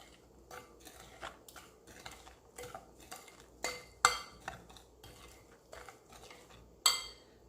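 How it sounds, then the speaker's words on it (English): Cornmeal porridge with coconut milk being stirred in a pot, a run of quick metallic spoon scrapes and clinks against the pot's side, close and fairly soft, with no talking. "here I have 1 cup of coconut milk. That's gonna put it in my cornmeal. That's gonna give it a stir."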